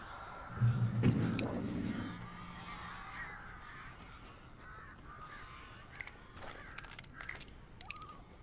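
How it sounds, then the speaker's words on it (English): Crows caw repeatedly in the video game Alan Wake, a loud burst of harsh calls early on followed by scattered fainter caws and flutters under a low ambient hum. "These birds are weird."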